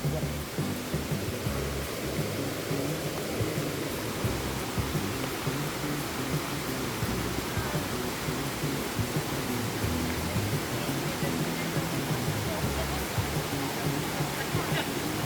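A stream rushes steadily on a monsoon trek toward Devkund Waterfall near Pune, a broad constant hiss of flowing water close by that runs unbroken throughout.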